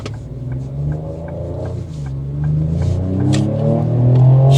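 A Ford Explorer engine revs in a steady, loud drone that climbs in pitch and grows louder as it pulls, with no voices over it.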